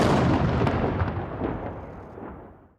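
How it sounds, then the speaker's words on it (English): Naval gun fired in salute at a Portsmouth or Devonport naval base for Prince Philip: one loud, close booming blast that rolls and echoes, fading away over about three seconds with no voices. "Guns were sounded for an ex-serviceman at naval bases in Portsmouth"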